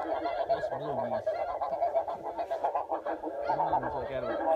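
A flock of blue geese and speckled belly geese honks and chatters continuously during a goose hunt, with many overlapping calls at moderate distance and no break in the noise.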